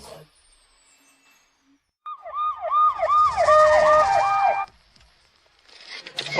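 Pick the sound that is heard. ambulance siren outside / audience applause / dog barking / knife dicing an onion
ambulance siren outside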